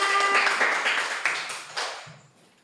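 A short burst of hand clapping from a group in a classroom, a dense patter that fades out within about two seconds, followed by quiet.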